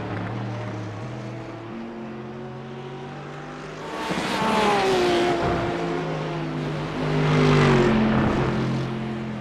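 Porsche race car in a sim racing game at Rudskogen, engine tones climbing and dropping through gear shifts, loud and close, with louder surges of rushing noise midway and near the end.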